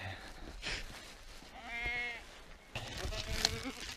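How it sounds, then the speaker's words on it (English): Sheep gathered at feeding time bleat nearby, with one clear, wavering bleat standing out in the middle and other calls overlapping around it. A faint rustle of outdoor noise runs throughout. "You're a good looking sheep, mate."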